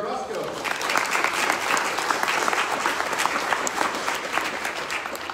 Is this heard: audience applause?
yes